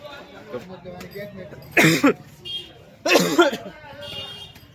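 Two harsh, loud coughs burst out about a second apart, with quieter murmuring voices around them.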